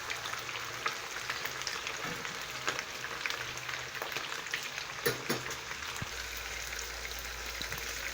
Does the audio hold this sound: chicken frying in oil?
yes